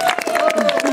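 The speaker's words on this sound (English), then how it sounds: "everybody, big round of applause" Crowd applauding and cheering for the winner of a 10K night river run, lively outdoor clapping mixed with voices and a sustained tone, loud and close, lasting only a moment.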